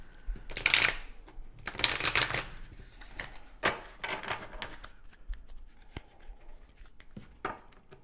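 A Wisdom of the Oracle card deck is shuffled by hand in several quick riffling bursts, with softer card taps and slides between them, close and clear with no talk over it.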